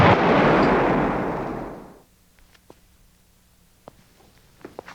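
A loud explosion bursts at once and rumbles off over about two seconds, then gives way to near-silence broken by faint scattered ticks and pops.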